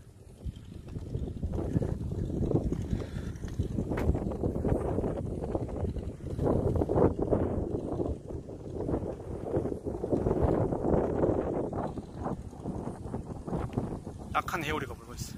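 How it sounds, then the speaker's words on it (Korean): A sea breeze blows across rice paddies in Senegal, a steady low rumbling gust buffeting the microphone throughout while someone talks. "와, 저기 해오리 바람 부는데."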